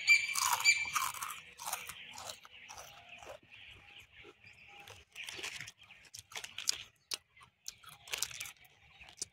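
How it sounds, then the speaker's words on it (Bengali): Crunchy potato chips from a packet are chewed close to the mic, crackling bursts and wet munching in irregular rhythm, with plastic rustle early on and faint background noise. "তো চিপসটা খাই একটু"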